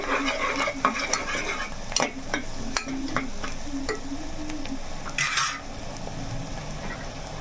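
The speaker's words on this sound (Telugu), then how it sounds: "ఉల్లిపాయలు మనకి బాగా వేగితేనే కూర కూడా టేస్ట్ అనేది ఉంటుంది ఉల్లిపాయలు బాగా వేగాలండి" Onions frying in a pan for a curry, with a soft sizzle under repeated spatula scrapes and occasional clinks against the pan, close up and with no talking.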